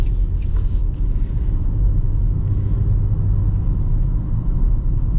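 A 2024 Nissan Murano Platinum with an Xtronic CVT accelerates, giving a steady, loud low engine drone and road rumble from inside the cabin with no gear-shift breaks.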